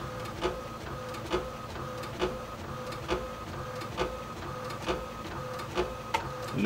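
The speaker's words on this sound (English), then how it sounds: "using the HP one I just bought, and the DeskJet 1000 for the print" An HP DeskJet 1000 inkjet printer prints a photo with a steady mechanical hum and regular carriage clicks, about one per second, fairly quiet and close.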